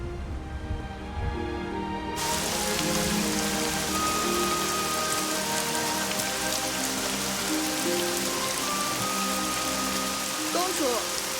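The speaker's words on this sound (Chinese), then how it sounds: "天要下雨了，你去准备些伞吧。" Rain begins suddenly after a couple of seconds and then falls steadily, a dense, even hiss of drops striking surfaces that continues to the end.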